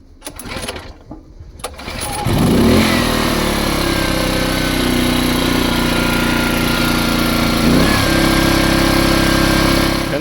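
A FOGO inverter generator engine cranks, catches and settles into a steady, loud running drone, with a brief pitch shift partway through as the load or speed changes.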